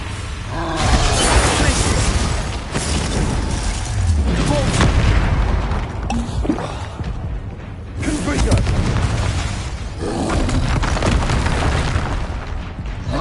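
Loud, booming magical blasts and shattering debris from a Confringo fire spell in the video game Hogwarts Legacy, forming a dense, continuous roar with repeated heavy impacts.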